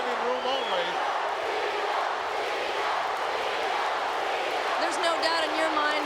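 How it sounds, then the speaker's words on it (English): Dense roar of a capacity, standing-room-only wrestling arena crowd cheering for Tito Santana, a steady broadband wash that swells slightly near the end, with a commentator's voice speaking over it. "You can hear the crowd's approval"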